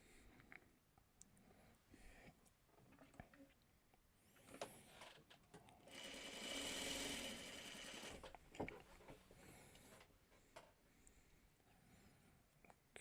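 A sewing machine stitches a purple fabric piece, a faint whirring run that swells into a louder continuous hum in the middle and then fades, with light handling noises around it.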